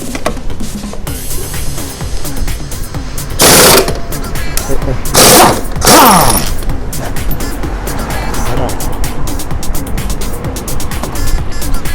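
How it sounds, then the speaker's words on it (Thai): Pneumatic impact wrench firing in bursts to break loose the starter drive gear on a Honda Click 110i scooter engine in a workshop, loud rattling hammer bursts with a buzzing tool whine and ambient shop noise. "ทีเรายิงกระแทกแล้วมันจะหลุด"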